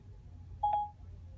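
A single short dialing tone sounds from an Apple CarPlay phone call in a car at an auto show, a brief clear beep over a quiet low hum.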